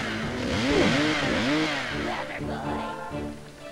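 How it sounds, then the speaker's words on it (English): A chainsaw in the video game Evil Dead: The Game revs loudly up close, its pitch swooping up and down in surges before settling into a rough, sputtering idle amid clatter. "so I'll just chop you up with a chainsaw"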